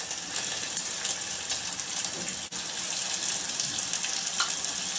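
Ginger, chilies and onion frying in a pan with a bright, steady sizzle throughout, close and continuous, broken by a brief dip as the pan is stirred.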